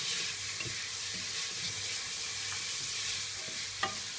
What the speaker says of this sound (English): now that's kind of sizzling away